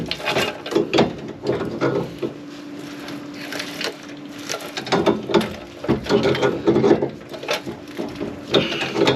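A hand ratchet tightens a wheel-bearing nut on a hot rod, giving bursts of rapid clicking pawl strokes with short pauses between, close and fairly loud.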